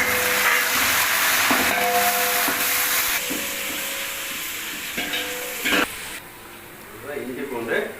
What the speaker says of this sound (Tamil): இப்படியே வெங்காயம் நல்லா பொன்னிறமாக வதக்கிடுது.